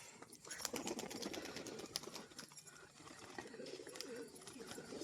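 Pigeons coo softly in the distance over a low background hum, with faint rustling and light tapping sounds.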